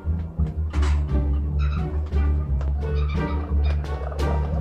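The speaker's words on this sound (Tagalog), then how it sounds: "Marami pang ibon guys." Birds in a pigeon race, chattering and gobbling calls that repeat in close, loud bursts over a steady low hum.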